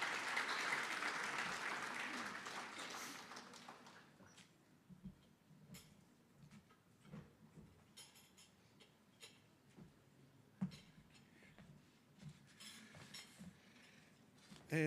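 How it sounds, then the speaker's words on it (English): Applause from a conference audience, a loud sustained burst of clapping that gradually thins out into scattered, sparse claps and faint room noise. "can you give Henny Hudson another round of applause?"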